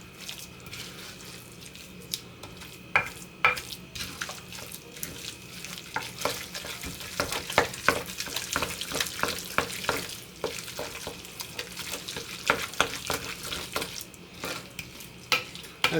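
Benedictine cucumber spread is stirred in a bowl, with wet, squishy scraping and irregular clicks of the utensil against the sides, continuous and fairly close for several seconds, with no speech.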